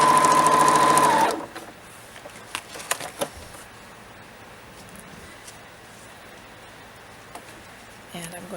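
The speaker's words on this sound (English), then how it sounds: "I'm just going to do a quarter inch seam to sew the lid to the body" Sewing machine running a quarter inch seam to join the lid of a small zipper bag to its body, a brief close whirring burst of about a second, followed by quiet handling and a voice speaking.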